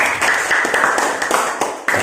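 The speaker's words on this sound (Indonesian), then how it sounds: "Kasih tepuk tangan dulu untuk teman-teman." Classmates in a school classroom clap together, a brisk, close burst of many hands with uneven rhythm and small gaps, steady and loud over about two seconds.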